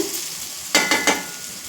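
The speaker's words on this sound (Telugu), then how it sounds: "chicken pieces egg pieces వేసుకున్నామండి" Chicken fried rice with deep-fried chicken and egg pieces stir-fried in a pan, a faint background sizzle broken by three quick scraping tosses of a spatula, close up with no voices.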